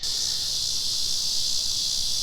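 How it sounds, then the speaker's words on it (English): Continuous high-pitched electric drone of cicadas in a willow tree, steady and fairly loud, with no breaks and no voices. "the cicadas in that willow tree, you can probably hear them now"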